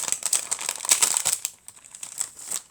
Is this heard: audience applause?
no